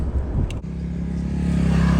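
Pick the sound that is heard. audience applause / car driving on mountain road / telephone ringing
car driving on mountain road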